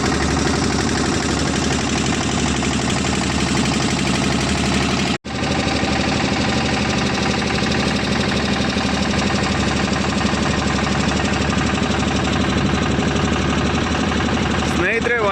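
A boat engine runs loud and steady, a constant mechanical drone under a ride at Honnavara, with a brief break partway through.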